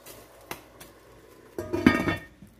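A metal lid is set onto a pot of homemade ragu with chicken and rigatoni on a stovetop. Two light taps come first, then a louder clanking rattle as the lid settles, close and clear.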